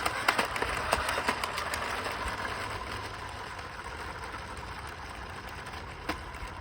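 A Nerf Mega XL flywheel blaster revs up with a steady motorized whir, loaded with four darts, sounding close and continuous with a few sharp clicks near the start.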